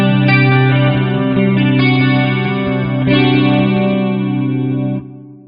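Electric guitar through a Marshall JMD:1 amp with chorus and reverb, sustained chords ringing loud and shimmering, then cut off near the end with a brief reverb tail.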